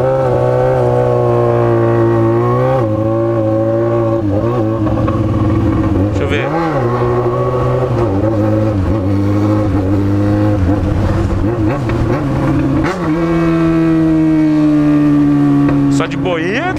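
A Ferrari 458 Italia revs and accelerates close by next to a Yamaha XJ6 motorcycle, a loud sustained engine note rising and falling in pitch through repeated pulls, with voices talking over it.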